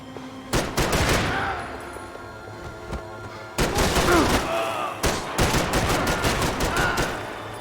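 Gunfire in the video game Max Payne 3: loud rapid bursts of automatic fire and shots in two dense volleys separated by a brief lull, with echoing booms between.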